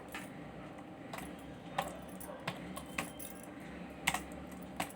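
A line of HTML typed on a computer keyboard: scattered, sharp key taps at an uneven pace, close and quiet, with no talking.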